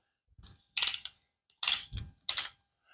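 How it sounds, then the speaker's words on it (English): A torque wrench ratchets on a nut while the nut is tightened to 80 pounds during a camshaft cover installation: four short, crisp clicking bursts separated by brief pauses, close up and otherwise quiet. "this calls for 80 pounds of torque on this nut right here"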